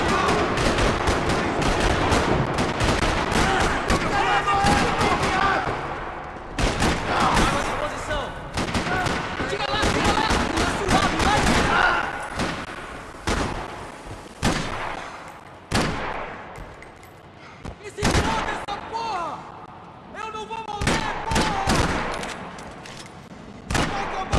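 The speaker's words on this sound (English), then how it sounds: "Another parking lot rattling with gunfire." Gunfire rattles through a parking lot in the video game Max Payne 3: dense, continuous bursts of shots and impacts with loud peaks, layered under game action with little pause.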